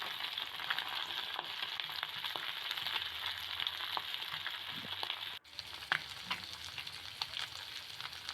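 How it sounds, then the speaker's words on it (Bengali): Small tangra fish coated in salt and turmeric fry in hot oil, giving a continuous close crackling sizzle with occasional stirring clicks, alone and fairly quiet, with a brief break partway through. "তেলটাও খুব ভালো করে গরম করে লবণ হলুদ মাখানো ট্যাংরা মাছগুলোকে ভেজে নিচ্ছি"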